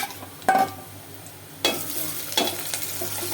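About a kilo of meat frying in a pan with spices being added, with a few sharp scraping stirs over a steady low sizzle, fairly close and without talk.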